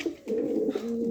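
Pigeons cooing at a pigeon farm, where Indian Black Lakha birds are kept: soft, low, rolling coos repeat in a steady run, close by and clear, with no talk.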